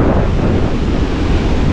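A strong amihan wind roars across the microphone at Casapsapan Eco Park beach, mixed with the continuous wash of surf in a loud, dense, unbroken rumble.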